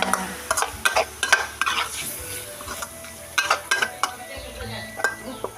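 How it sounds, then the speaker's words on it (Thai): Pork sizzles and fries in a pan for Thai panang curry while a utensil stirs and scrapes against the metal in repeated strokes, with clinks of cookware; no talking. "ผัดหมูให้หอมให้นุ่ม"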